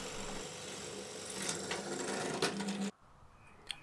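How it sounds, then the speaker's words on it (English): A steady, buzzing whir of a power drill boring through a knife handle, grinding on for about three seconds before stopping abruptly, leaving quiet background. "so I drilled a hole through."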